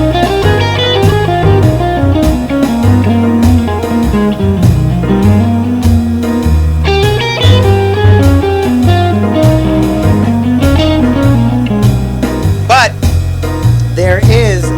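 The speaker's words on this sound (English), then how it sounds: "the scale I usually play is G altered, which sounds like this" Guitar running up and down the G altered scale over a backing groove, a steady flow of fast single notes with bends, loud and continuous with no talking.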